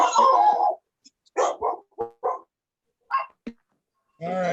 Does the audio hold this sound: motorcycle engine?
no